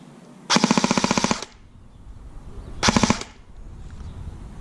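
An airsoft M4 rifle fires two quick bursts of sharp, evenly spaced snapping shots, a longer string then a shorter one, close and loud against a quiet background.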